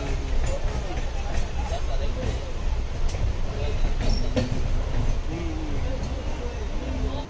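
Train pulling slowly out of Dum Dum platform, a continuous low rumble with faint rattling, heard from inside a carriage with voices talking nearby.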